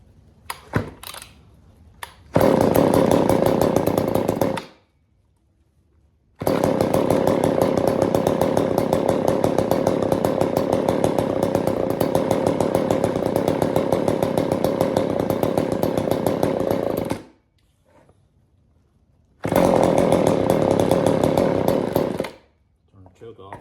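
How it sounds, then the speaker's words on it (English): A Poulan Pro S25 AV chainsaw is started with a few short pull attempts, then revs loudly in long running bursts separated by brief silences, close up. "All right, let's give it a pull"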